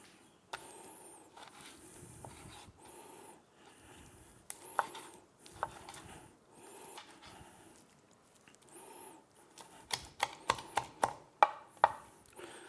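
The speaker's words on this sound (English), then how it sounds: "I prefer to kind of chop it up before and then you cook it in the pan." Raw chicken for laab gai being chopped on a board, with scattered soft knife taps early, then a quicker run of sharp, louder chops toward the end, recorded close and quiet.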